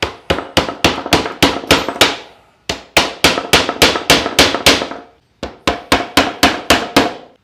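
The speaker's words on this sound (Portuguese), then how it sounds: "vou pregar com 3 preguinhos, ele vai servir de guia para fazermos esse oblongo" Small nails are hammered into wood to fix a guide in place: three bursts of sharp, ringing hammer blows, each a quick rhythmic run of six or seven strikes with short pauses between, loud and close, no talking.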